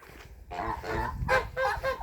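Geese grazing alongside turkeys give a run of nasal honks, close and fairly loud, in uneven bursts of two or three calls after a quieter start.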